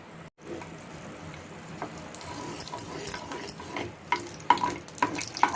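A few spoons of oil heat in a seasoned clay pot for tempering, giving a soft, low sizzle with light stirring scrapes and a few sharper crackles toward the end, close and fairly quiet.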